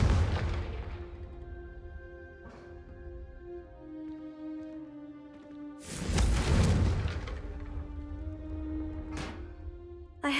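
A Confringo blasting spell in Hogwarts Legacy bursts into a loud, close fiery explosion with a roaring whoosh, preceded by a softer crackling impact and followed by a sharp crack, all over a sustained musical drone.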